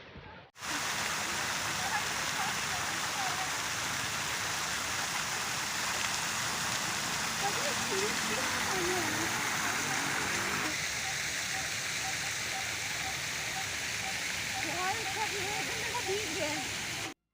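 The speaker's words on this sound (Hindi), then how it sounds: "वाओ, वाटर फाउंटेन दिख रहा होगा आपको वहाँ पे।" Water fountain splashing in the Khusro Bagh garden, Prayagraj: a steady, broad rush of falling water that runs unbroken and fairly close, with faint voices in the background.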